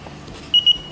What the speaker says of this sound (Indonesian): buzzer berbunyi tit panjang, maka alat itu akan langsung aktif